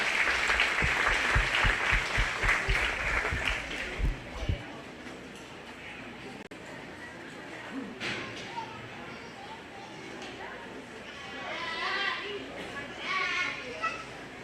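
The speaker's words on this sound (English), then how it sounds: "Now, all together, give them all a big round of applause." A crowd at a 4-H/FFA goat show claps and cheers loudly for a few seconds, then the applause drops away and a voice speaks over a quieter, murmuring background.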